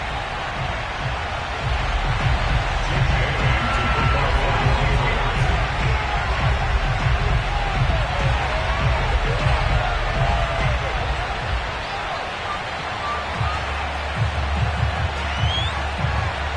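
A sold-out stadium crowd roars and cheers in an EA Sports football video game as the Patriots take the field against the Miami Dolphins, a steady, dense wall of crowd noise lasting throughout.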